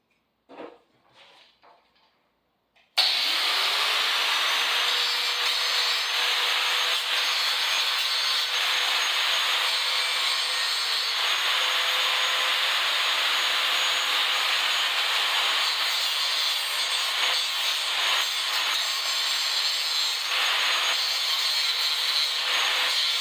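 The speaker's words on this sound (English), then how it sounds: "I'm going to try the grinder on it and see if I can identify the welds." An angle grinder cuts into the spot welds on a car battery tray for an Astro, producing a loud, continuous high-pitched metallic grinding whine that runs close and unbroken for about twenty seconds after a few faint knocks at the start.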